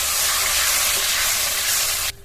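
Spice masala fries in a pan with tomato sauce and a little water just added, a loud, close, bright hissing sizzle that holds steady and then drops off abruptly near the end.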